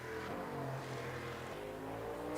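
American-made Corvette race car in Le Mans Ultimate grumbling with a low, throaty engine drone, steady then dipping slightly in pitch, fairly quiet and with no voices.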